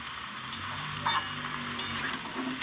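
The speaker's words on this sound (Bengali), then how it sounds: "ভালো করে মশলাটাকে একটু কষিয়ে নেব" Spinach and mixed vegetables with spices, cooking in their own released water, sizzle in a pan under quick stirring scrapes, close and steady with no talk.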